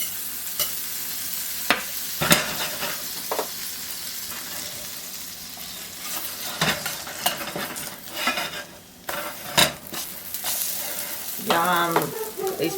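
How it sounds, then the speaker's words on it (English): Corn fritters frying in butter in a pan, a soft steady sizzle with sharp scraping and stirring clatters from a utensil against the pan, no talking. "I just want to put just a little bit more butter down on this side"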